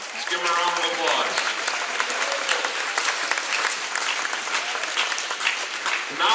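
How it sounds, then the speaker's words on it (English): Crowd applause in a basketball gym for competing varsity cheerleaders, dense and steady throughout, with murmuring voices mixed in under the clapping. "Let's give them a round of applause."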